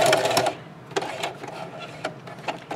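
A sewing machine back stitching the fabric tie of a two-colour scrub cap, running in short quick bursts separated by brief pauses, fairly close and moderately loud.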